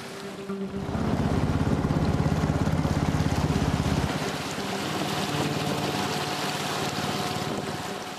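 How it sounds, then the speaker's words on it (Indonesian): A motorized boat carries people out to distant swamp buffalo grazing land. Its engine drones steadily and fairly close, loudest early on and then settling into a steady hum, with wind and water noise around it. "kami menggunakan perahu bermesin yang sering disebut cheese."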